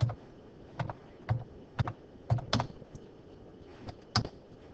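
Typing on a computer keyboard in a quiet room, with about a dozen sharp, distinct keystrokes arriving in small irregular clusters and brief pauses between them.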